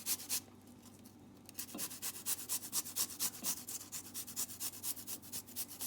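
A large garlic clove rubbed against a grater, heard as a steady run of rapid, rhythmic scraping strokes, close and fairly quiet, with a short pause near the start before the grating picks up.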